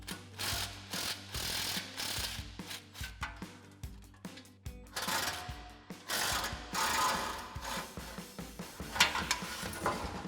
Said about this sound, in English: 13 millimeter swivel socket and extension on our impact. We're gonna fish that up in there, unbolt those 2 nuts